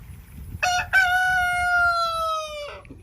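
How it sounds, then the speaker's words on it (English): A rooster near a honeybee yard lets out one loud, close crow lasting about two seconds, rising and then falling as it trails off, over faint background noise. "That rooster's a big mouth."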